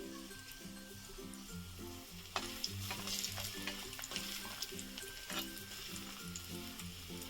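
Three or four halved pieces of ginger fry quietly in ghee, giving a faint, steady sizzle with a few scattered crackles and stirring sounds against soft background music.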